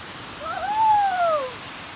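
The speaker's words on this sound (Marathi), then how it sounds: "जबरदस्त असं पाणी पाणी पडतंय" A steady rush of falling water at Bhivpuri Waterfall in the rain fills the air, with a brief whistling tone gliding over the roar.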